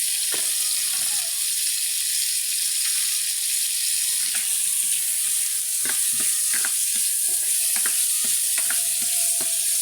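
Chop suey stir-fried in a pan: a steady hiss of frying with repeated scraping and clacking of a utensil against the pan, close and continuous, with no talk.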